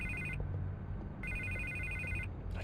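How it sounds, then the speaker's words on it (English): A telephone rings in the video game Batman: The Telltale Series, two long electronic trilling bursts separated by a short pause, with a third beginning at the end, heard at moderate level over a low ambient hum with no talking. "I can't get the phone to stop ringing."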